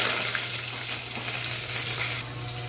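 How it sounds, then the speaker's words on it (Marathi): Chillies and a pinch of asafoetida sizzle in hot oil at the start of a pomfret curry. The hiss is continuous and close with a low hum underneath, and it softens slightly near the end. No one speaks. "मी पहिला तेल टाकलेलं आहे, मग तेलावर थोडासा हिंग टाकला"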